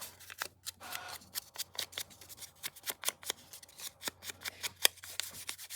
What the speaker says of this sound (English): I either use a fingernail or a scissor or whatever. Just rough them a little.